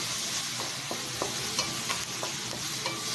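Sliced white onion and finger pepper sautéing in a hot pan, a quiet steady sizzle broken by a run of light, evenly spaced taps of a utensil stirring.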